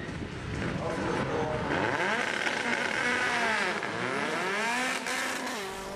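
Several powerful race cars in the Maxi class, the most powerful and fastest cars, led by a Mitsubishi Lancer Evo 9, start a race at Veliko Tarnovo circuit, their engines roaring loud and rising in pitch as they accelerate together, with a faint voice underneath.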